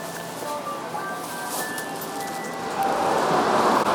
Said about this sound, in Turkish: hafif atıştırıyor yağmur